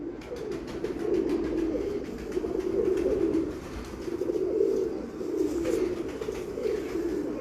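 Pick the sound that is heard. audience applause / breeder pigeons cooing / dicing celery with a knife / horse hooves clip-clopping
breeder pigeons cooing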